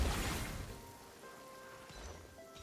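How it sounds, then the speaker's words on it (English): Steady rain falls in Genshin Impact as a soft, continuous wash of patter, faint and even throughout, with light game tones ringing over it. "Taking shelter and listening to the rain cleanse the earth makes me feel safe."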